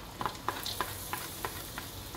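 Garlic stirred and sautéed in butter in a pan, a soft steady sizzle broken by a series of regular scraping stir strokes, close and alone.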